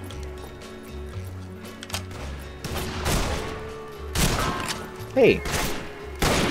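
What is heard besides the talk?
gunfire in the video game Fistful of Frags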